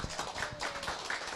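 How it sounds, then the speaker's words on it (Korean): Church congregation clapping together to welcome a guest pastor to the pulpit, a dense steady patter of many hands filling the room. "박수로 환영합니다."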